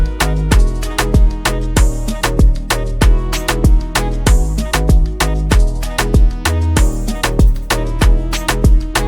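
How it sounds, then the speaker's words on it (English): A plain synth bass from a sample bank doubles the bass chords of an Afrobeats melody, booming under a looping drum pattern with crisp percussive hits, loud and steady without voices. "So first one is gonna be a regular synth bass that I got out of this contact bank."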